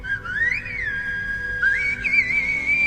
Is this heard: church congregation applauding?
no